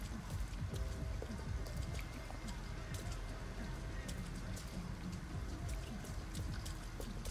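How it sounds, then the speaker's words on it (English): Steady rain in the video game Detroit: Become Human falls as a dense, even patter and hiss that fills the whole stretch, close and constant, with no clear speech. "It's enough being in this rain."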